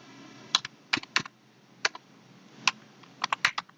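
Keystrokes on a computer keyboard while writing Python code: about a dozen sharp, close clicks in small irregular bursts with short pauses, loud against a quiet room and no talking.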